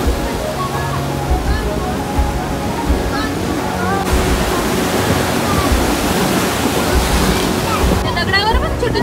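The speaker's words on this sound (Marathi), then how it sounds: "एवढे मोठे लाट आहेत बघ, बाप रे, ते म्हणतात ना इथला खबर समुद्र आहे." Rough monsoon sea on the Konkan coast, big waves surging and crashing continuously with heavy wind rumble, loud and close, with faint voices in the background.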